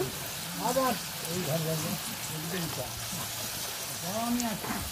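Maida puri fry in white oil with a steady crackling sizzle that sounds close by, while a voice speaks quietly over it.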